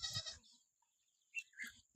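A faint sheep bleat rings out at the start, followed by two brief, quieter sheep calls about a second later in an otherwise quiet setting.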